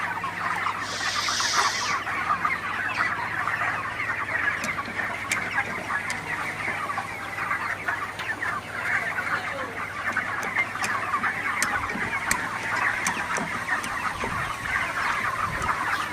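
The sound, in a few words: broiler chickens clucking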